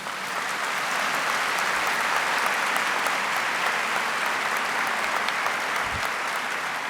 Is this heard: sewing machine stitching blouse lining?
no